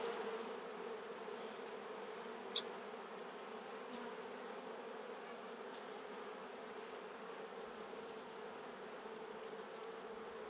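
Honey bees drone around an open hive during an inspection of a colony that other colonies are emptying, a steady, even hum that carries on without a break.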